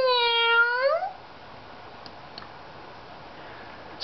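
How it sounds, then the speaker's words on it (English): A single clear cat meow at the start, followed by near silence with a few faint ticks. "the cat murmured, meow"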